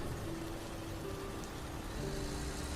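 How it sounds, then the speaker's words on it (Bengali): Heavy rain pours steadily onto a moving truck, a dense continuous hiss with a low engine rumble underneath and no breaks. "ট্রাক আরো কিছুটা যেতেই আরো জোরে বৃষ্টি শুরু হলো।"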